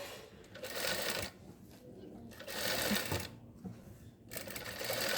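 A sewing machine stitching piping onto cloth runs in loud rapid whirring bursts separated by short pauses, close up, with someone talking at times between runs.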